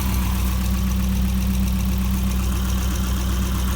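A Volvo drift car engine idles steadily nearby, a constant low rumble with an even pulsing beat and no voices.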